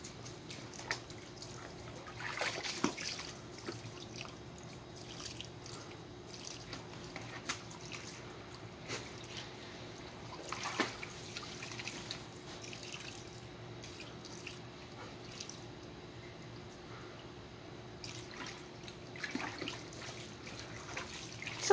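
A garden hose left running beside a backyard pool, giving a faint continuous trickle and splatter of water with occasional louder splashes and drips throughout.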